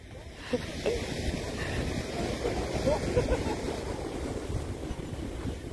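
Beach ambience of waves washing on the shore and gusting wind buffeting the microphone, a steady low rushing roar, with a few faint voices in the background.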